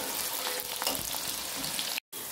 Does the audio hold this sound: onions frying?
yes